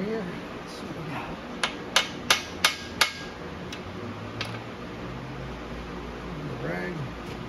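Small hammer tapping on metal in a workshop during a bearing inspection, four or five sharp, close strikes in quick succession with a faint extra tap after, over a low background hum.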